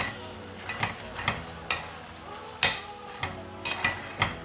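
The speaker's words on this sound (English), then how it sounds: "And I'll give it a stir." Steak mince with tomato paste and water is stirred in a hot pan, a spoon scraping in repeated strokes over a steady close sizzle.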